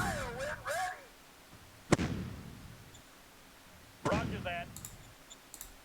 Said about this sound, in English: let's do the bombardment.